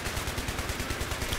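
A PKP machine gun fires in Battlefield 3 on the Metro map, a rapid even burst of sharp cracks with a steady rhythmic thump, loud and close through a short run of sustained automatic fire.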